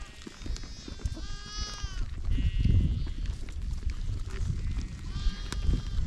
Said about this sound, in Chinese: 小山羊。 小心。